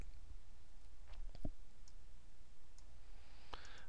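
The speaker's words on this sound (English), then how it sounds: "click OK" A few sparse, faint clicks of a computer mouse in a quiet room as OK is pressed in an Excel spreadsheet, with no talking.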